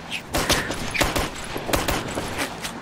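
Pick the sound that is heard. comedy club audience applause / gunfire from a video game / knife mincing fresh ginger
gunfire from a video game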